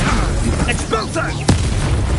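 An Expulso spell blast in a wizarding duel, a single sharp boom bursting out midway over a dense, continuous rumble of battle noise and background voices.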